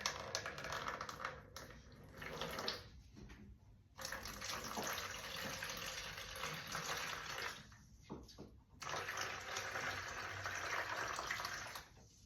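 Warm water pours and splashes steadily into a bowl for focaccia dough, with a couple of brief pauses and faint clatter between bursts; no talking.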